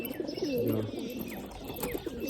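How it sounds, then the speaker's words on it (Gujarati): Pigeons in a coop coo steadily at close range, repeated low throaty calls with a white pigeon and its chicks nearby, with no speech. "વાઇટ એક કબૂતર બેઠું છે અને બચ્ચા છે"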